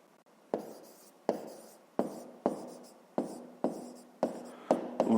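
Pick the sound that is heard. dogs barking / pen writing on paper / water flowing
pen writing on paper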